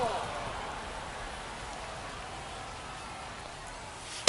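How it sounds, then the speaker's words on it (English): Steady hiss of rain pouring down on a baseball field in MLB The Show 25, a soft even wash throughout with a sharp knock at the very end. "We'll see how well the field holds up with the way the rain is coming down."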